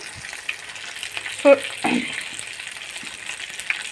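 Prawns frying in mustard oil for tel chingri, a soft steady sizzle with a couple of brief clatters of stirring partway through.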